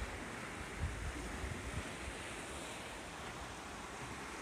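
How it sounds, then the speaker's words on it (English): Quittaphilla Creek water rushing steadily as a broad, even outdoor wash, close and moderately loud, with some wind buffeting the microphone and no voices. "This is the Quittaphilla Creek."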